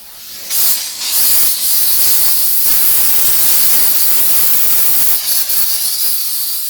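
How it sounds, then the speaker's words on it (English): A Chief Steamer 125 PSI sprays steam mixed with Optimum No Rinse onto a car, a loud, steady close hiss that starts abruptly, holds continuously with slight flutters and tapers at the end, with no talking. "go back to steam, we're wetting the car down with our No Rinse product"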